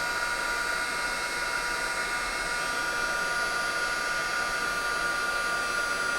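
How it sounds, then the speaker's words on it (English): A craft heat tool blows hot air over embossing powder, a continuous, even whooshing hiss that holds steady and close throughout without any voices. "now I can take my heat tool and I can heat that up"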